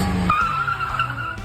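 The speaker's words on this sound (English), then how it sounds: "Oh, sorry, my brakes are a little aggressive." Tires of a Mazda Miata squeal and skid under hard braking, one loud sustained screech close up with engine noise beneath.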